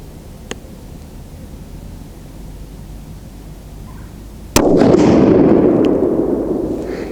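A TC Compass rifle with a muzzle brake fires a Hornady 168-grain Z-Max load once, a sharp, loud crack with a long rumbling outdoor echo, after a faint click and quiet background.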